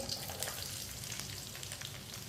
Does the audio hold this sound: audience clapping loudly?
no